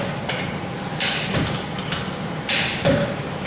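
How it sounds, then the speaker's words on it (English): A compaction hammer is dropped repeatedly onto soil during a lab compaction test, giving a few dull thuds at an uneven pace over a steady background hum. "Again, after each drop, move the hammer around on the surface slightly."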